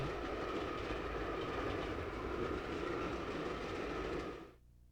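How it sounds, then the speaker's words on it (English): A commuter rail train runs steadily along the tracks, with a continuous rumbling roar that holds at an even loudness for about four seconds and then cuts off abruptly. "Commuter rail, moving Greater Cleveland into the 21st century."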